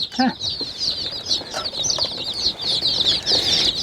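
Feather-footed paçalı chickens flap their wings and cluck close by, with busy rustling flutters and a steady stream of high clucks throughout.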